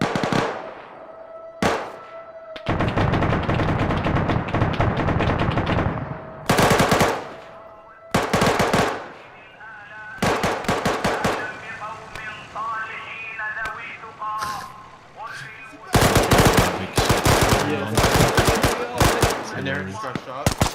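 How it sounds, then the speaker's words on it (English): Rapid gunfire from a marksman rifle in the game Arma 3 rings out in loud repeated bursts and volleys, close and sharp, with sustained shooting between pauses and players talking over it. "I think it's the marksman gun"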